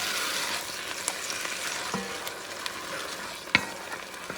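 Food frying in a pan while being stirred for a braised beef neck bone stew, with a steady soft sizzle and scattered scraping and clicking of a utensil, close and moderately quiet, no talk.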